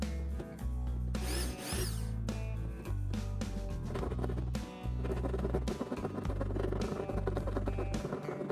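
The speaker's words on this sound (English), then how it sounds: "Drilling hole for pump setup." A power drill boring holes in a plastic bucket for a pump setup, with loud whining bursts of drilling broken by brief stops and a few rattling scrapes, close up with no talk.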